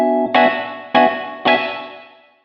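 Rhodes electric piano, three struck chords about half a second apart, each ringing out with a warm bell-like tone and a long decay into room reverb, played alone with no voices.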